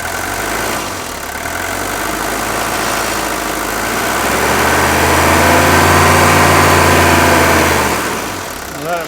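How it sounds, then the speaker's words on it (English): A Mercedes 240D diesel engine idles loudly and close by with a steady clatter, then is brought up off idle so it swells into a smooth, higher rev for a few seconds before easing back toward idle. "Here you'll get to just listen to this 240D idle, and you can see how smooth it idles."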